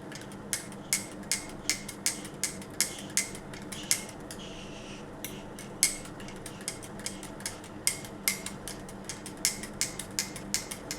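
Chia seeds stirred in water with a spoon, making a steady run of light clinks against the container, evenly spaced and faint, with no talking.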